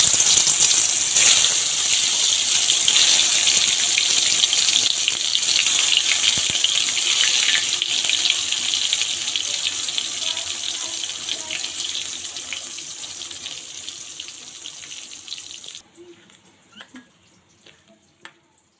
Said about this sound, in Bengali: হাত দিয়ে আমি সয়াবড়িগুলো সুন্দর করে চটকে চটকে ধুয়ে নিচ্ছি